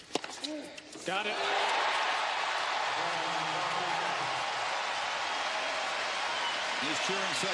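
Crowd at the 2014 Australian Open men's tennis final roars into sustained loud cheering and applause after a brief opening sound, holding at a dense, even level to the end. A commentator speaks faintly underneath.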